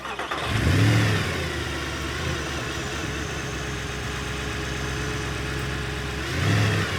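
A 6.3 litre naturally aspirated V8 car engine cranks and fires into a loud rev, settles into a steady rumbling idle, then blips again near the end, heard up close with no talking.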